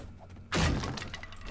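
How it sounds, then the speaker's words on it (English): A zombie smashes through a structure in the video game 7 Days to Die: a sudden loud crash of breaking material, then a dense rumbling clatter for about a second. "I'm keeping an ear in the background for smashing"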